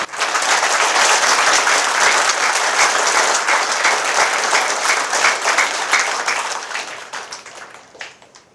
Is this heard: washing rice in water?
no